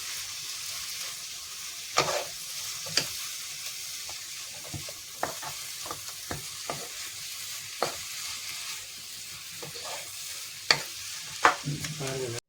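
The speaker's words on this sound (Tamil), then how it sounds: "அப்புறம் கொத்தமல்லி, இதையும் போட்டு நன்றாக வதக்க வேண்டும்." Coriander leaves sautéing in a pan for coriander and mint rice, a low steady sizzle broken by sharp scraping clicks of a spoon stirring at irregular intervals, close by with no talk.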